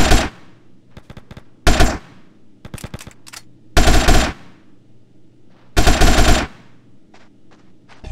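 Gunfire in Grand Theft Auto during a gang shootout: several loud, close automatic bursts, each about half a second long, broken by shorter rattling volleys and quieter gaps. No talk.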